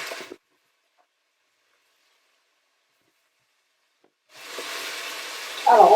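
Meat browning for a peanut-sauce mafé stew starts hissing as onions hit the pan. Silence comes first, then a sudden steady sizzle rises partway through and swells louder at the very end.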